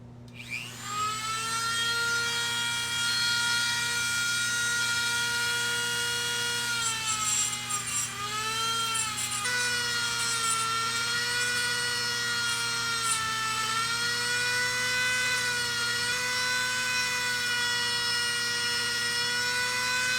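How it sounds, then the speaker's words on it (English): A Dremel rotary tool that had been acting up runs continuously while cleaning a coral frag body, a loud, close, high-pitched whine that dips and wavers briefly under load before settling into a steady drone. "Let's see how my Dremel holds up today."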